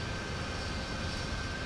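Simulated McDonnell Douglas DC-10-40D jet engines spooling up in Microsoft Flight Simulator, heard as a steady, even roar with a thin sustained whine running over it.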